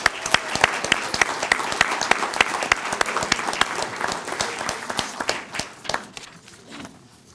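An audience at an employee ownership conference claps loudly for employee-owned companies, sharp individual claps standing out over a dense wash of applause that gradually thins toward the end.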